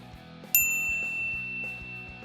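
A single bright bell ding rings out clearly and fades slowly over soft low-pitched background music.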